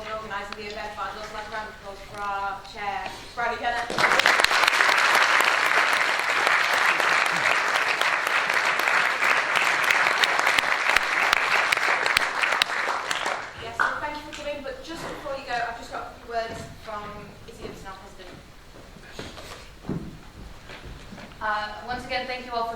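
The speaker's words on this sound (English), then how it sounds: "I'd also like a round of applause for our chair, Bradley Kenner." Audience applause at an election hustings event in Warwick and Leamington, a loud wash of clapping lasting about nine seconds, with a speaker talking before it and again after it fades.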